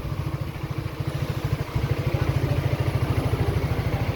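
A Yamaha X-Max scooter that had refused to start now runs, its engine putting out a steady, rapid low throb close by with no talking.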